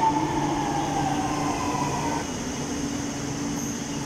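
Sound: train arriving at station platform

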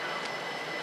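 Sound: train approaching a platform at Clapham Junction station

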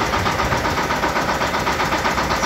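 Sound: Shifeng SF-350L mini tractor engine running

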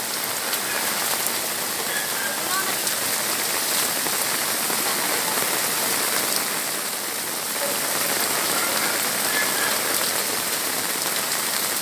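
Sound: heavy rain

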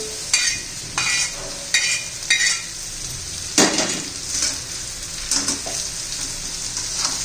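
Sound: raw banana vegetable being stirred and fried in pan

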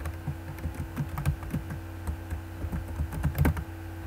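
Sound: typing on a computer keyboard

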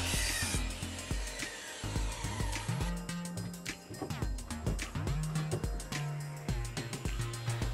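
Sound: miter saw cutting wooden board

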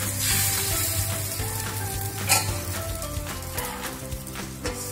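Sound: neer dosa batter poured onto oiled hot pan, sizzling

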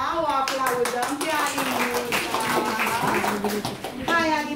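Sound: audience clapping

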